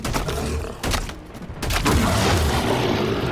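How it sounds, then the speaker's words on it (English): Grenade stuck to an enemy's back exploding in Halo Infinite co-op play, a loud booming blast amid bursts of gunfire, with sharp thuds early and a heavier sustained rumble in the second half. "Stuck a grenade on its back."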